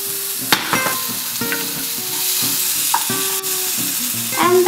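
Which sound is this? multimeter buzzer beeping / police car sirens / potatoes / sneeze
potatoes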